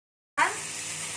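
Spices tipped into a hot pan for Cirebon-style sambal goreng hati hit with a sudden sizzle after a short silence, then settle into a steady hiss.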